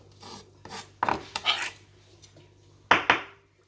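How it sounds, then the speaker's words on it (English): A knife slicing through white and red onion on a cutting board: several short, crisp rasping cuts in an irregular rhythm, close up and fairly quiet, with no talk. "Cut up this beautiful white onion, red onion."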